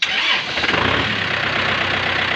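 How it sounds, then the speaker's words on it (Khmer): A 2023 Kubota M6040 tractor engine cranks and catches in a loud opening burst, then settles into a steady, close, throbbing diesel idle with no talking. "រីឯម៉ាស៊ីនរបស់វាជាមួយខ្ញុំធ្វើតេស្តឲ្យមើល"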